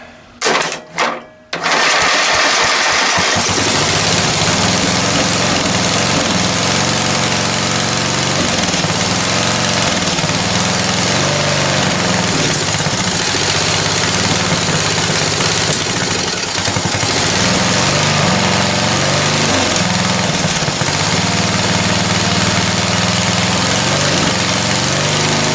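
Free lawn tractor engine with choke on cranks briefly in a few bursts, then catches and settles into a loud, steady, rattling idle that runs close and alone for over twenty seconds.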